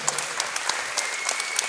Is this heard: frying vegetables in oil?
no